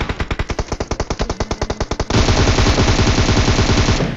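Rapid automatic gunfire in a battle royale video game, loud and close: a steady stream of evenly spaced shots for about two seconds, then merging into a dense continuous roar of firing.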